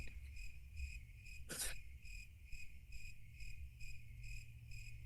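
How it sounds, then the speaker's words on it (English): Crickets chirping in a steady, evenly spaced pulsing pattern that runs throughout, with one brief sharp noise partway through. "I have actually downloaded cricket music"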